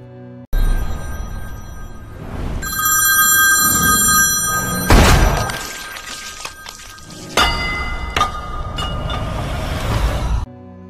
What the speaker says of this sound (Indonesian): Saat handphone Vasu berdering, Jaya menembakkan pistolnya